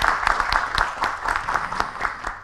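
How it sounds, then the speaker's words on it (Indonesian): Steady applause from a crowd, many hands clapping together in a continuous patter with no voices over it. "Tepuk tangan boleh untuk kita semuanya"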